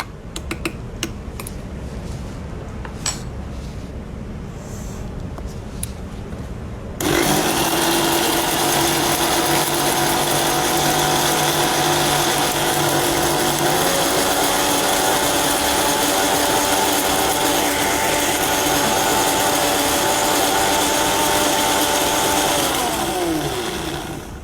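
An electric blender whirs through a cooking paste after water is added and the edges are scraped down; a few light knocks come first, then the motor starts loud and steady, shifts pitch partway and winds down at the end.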